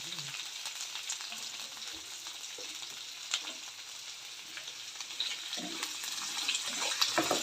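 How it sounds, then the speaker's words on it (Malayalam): Onion and tomato fry for a sardine curry, a continuous bright sizzle in the pan with occasional stirring scrapes and clinks, close and steady throughout. "ഇനി ഇതൊന്ന് നന്നായിട്ട് ഫ്രൈ ആവാനായിട്ട് നമുക്ക് കുറച്ച് ഉപ്പ് കൂടെ ഇട്ട് കൊടുത്ത് ഒന്ന് നന്നായിട്ട് ഫ്രൈ ആക്കി എടുക്കാം"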